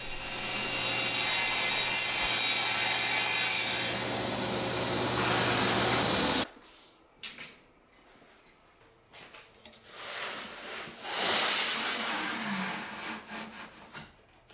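Sawing a narrow grid strip out of a sheet on a workbench, a loud, continuous rasping cut for several seconds that suddenly stops, followed by quieter scattered handling knocks and rubbing.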